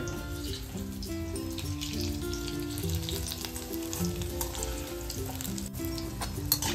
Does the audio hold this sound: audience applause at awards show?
no